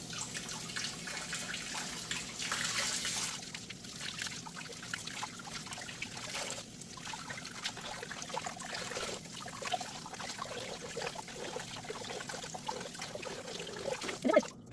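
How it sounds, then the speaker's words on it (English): Luffa sponges are rinsed and squeezed in warm water, giving a steady trickling, sloshing water sound with splashes and drips that runs throughout at close range. "use the warm water to really kind of massage all the gross liquid out and try to squeeze, get as much out as we can"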